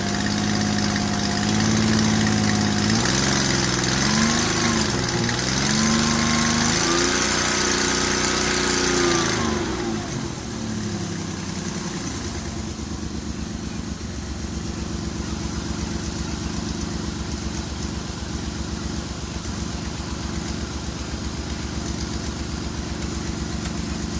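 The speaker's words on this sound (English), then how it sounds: "That's the engine noises." A 2002 Ford Escape engine idles steadily and close, a rhythmic mechanical hum with a possible exhaust leak; a brief revving rise at first drops back to a lower, quieter idle, with no talk.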